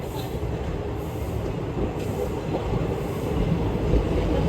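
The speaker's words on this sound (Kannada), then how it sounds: "ಈಗ ನಮ್ದು ಟ್ರೈನ್ ಸ್ಟಾರ್ಟ್ ಆಗ್ಯದ ಪಮ್ಮನ್ ಬ್ರಿಡ್ಜ್ ಮೇಲೆ" A train starts moving on the Pamban rail bridge: a steady, loud rumble of wheels and carriages that builds slightly toward the end, with no talk.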